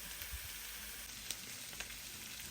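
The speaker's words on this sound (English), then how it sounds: "My sausages and onions have been cooking for almost 10 minutes now, and it's all nicely browned" Sausages and onions browning in a single pan give off a steady, close sizzle and crackle, with a few faint clicks of a utensil breaking through the frying hiss.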